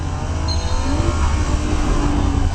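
A Nissan GT-R pulls away hard at the start of a timed lap on the Nürburgring, its engine roaring loud and close as it revs and builds speed with a rising drone.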